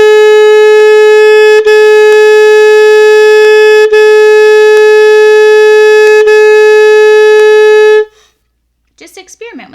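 Saxophone playing one steady sustained pitch, gently tongued into a string of soft, evenly separated notes, loud and close, alone until it stops, followed by a brief faint voice.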